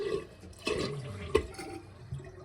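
A toilet tank with a faulty fill valve that won't shut off, water draining and dripping with intermittent splashes and trickles, fairly faint and close, without talk.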